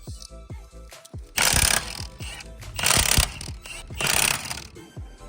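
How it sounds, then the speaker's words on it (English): Lug nuts are loosened on the wheel of a 2022 Hyundai Elantra N, with three loud bursts of ratcheting, clattering tool noise separated by lighter clicks and handling sounds. "You wanna get these lug nuts off."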